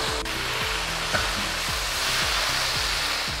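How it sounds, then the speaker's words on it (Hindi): Tomato paste goes into light-brown onions frying in a pan, bringing a close, hissing sizzle over a regular low pulsing throb that repeats several times a second, with no voices. "प्याज लाइट ब्राउन हो चुके हैं, तो अब इसमें शामिल करेंगे टमाटर की पेस्ट"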